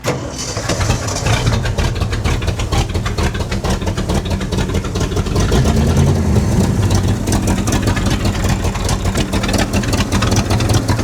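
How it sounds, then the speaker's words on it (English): The engines of a Jeep and a Golf keep running after a jump start, giving a loud, steady idling rumble close by that holds throughout with no talk. "Now we have the two vehicles running, the Jeep and the Golf."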